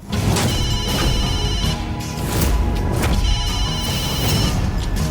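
A phone rings loudly in repeated bursts over a dense, noisy background, with no voices.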